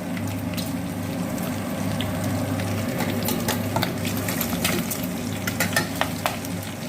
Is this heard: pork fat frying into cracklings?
yes